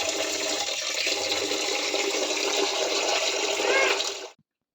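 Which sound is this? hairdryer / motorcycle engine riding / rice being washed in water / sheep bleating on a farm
rice being washed in water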